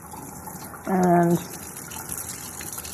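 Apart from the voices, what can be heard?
cold water rinsing a raw bird before roasting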